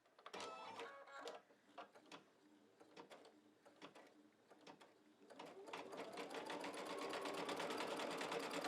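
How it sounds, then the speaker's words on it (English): A machine embroiderer stitches a wing needle design in metallic thread, starting with a few separate mechanical clunks and whirs, then settling into a steady, rapid, close rattling hum of continuous stitching. "this is how a normal wing needle design is going to stitch out"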